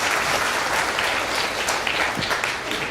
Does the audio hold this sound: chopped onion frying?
no